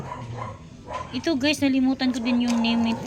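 Small indoor dog barking, whimpering and yipping close by in a high, drawn-out whine over a person talking.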